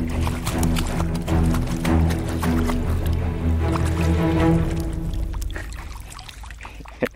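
Continuous splashing and sloshing water close by as a dog swims, paddling churning the surface steadily before easing off near the end.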